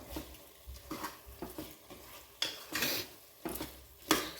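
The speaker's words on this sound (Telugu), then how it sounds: "చక్కగా ముక్కలకు పట్టేటట్టుగా మొత్తం కలిపేసుకొని ఇది కొంచెం ఉడకనివ్వాలి" Chicken pieces with biryani masala are stirred in a pan, a spoon scraping and knocking in short, uneven strokes over a faint sizzle, close by and without speech.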